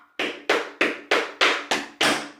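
Seven evenly spaced tap-shoe hits of dig, brush, step, heel, stomp ring out clearly on a wooden floor, each a bright, sharp clack in a steady beat.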